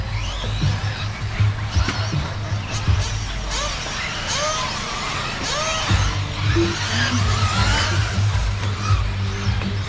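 A Sworkz Apollo II 8th-scale nitro race buggy rips around a dirt track, its high engine whine rising and falling in repeated revving passes, moderately loud with outdoor track ambience.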